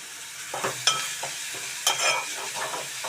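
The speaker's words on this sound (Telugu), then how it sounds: "వేయించుకోవాలి ఉల్లిపాయ ముక్కలు" Onion pieces frying over a low flame with salt and curry leaves: a steady sizzle broken by several spatula stirring scrapes, some sharper than others, with no one speaking.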